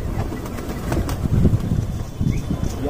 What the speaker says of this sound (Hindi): तो गाइस देख सकते हैं कितने कबूतर हैं